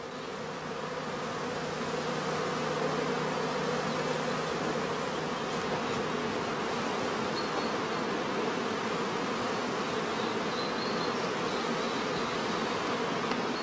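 Honeybees fly at the entrance of a straw skep hive, making a dense, continuous buzzing hum that holds steady and fairly close throughout, with no voices.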